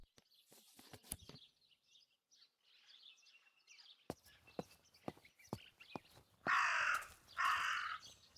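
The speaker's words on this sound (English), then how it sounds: "That raven is making a big fuss." A raven caws in the video game Martha Is Dead, giving two loud harsh calls near the end, preceded by faint outdoor rustling and several sharp footstep-like taps.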